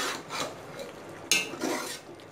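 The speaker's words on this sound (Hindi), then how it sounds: "अच्छी तरह मिक्स कर लेंगे हम इसको" Keema with capsicum and green coriander scraped and stirred in a pan, a steady rasping shuffle of spoon against metal in repeated strokes, close and fairly quiet, no talking.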